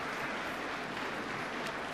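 A Czech crowd applauding and cheering at a men's Olympic qualification curling match between China and Russia, a dense continuous wash of clapping that holds at a steady, moderately distant level throughout.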